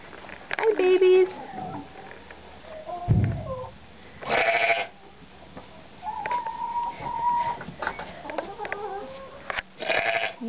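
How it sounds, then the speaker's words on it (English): Young lambs bleat on a farm in several short, nearby calls scattered among people talking and cooing at them. "Look at all those lambs."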